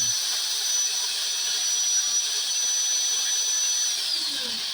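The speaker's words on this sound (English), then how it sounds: "just letting the drill do the spin" An electric drill spins an engine part for a 440 big bore top end rebuild, whirring continuously at high speed with a steady, loud whine, pitch holding constant before dipping slightly near the end.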